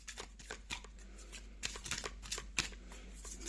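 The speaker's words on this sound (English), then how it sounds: "I'm going to go ahead, just give that a small shuffle." A deck of cards is shuffled with quick riffling bursts and soft slaps, close by and fairly quiet, with a few short pauses.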